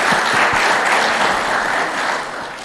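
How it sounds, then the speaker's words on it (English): Delegates at an African scout conference hall give a sustained round of applause, a loud, dense crowd of clapping that holds steady and then tapers slightly at the end. "let's also give a round of applause"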